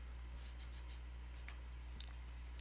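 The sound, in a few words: writing out vectors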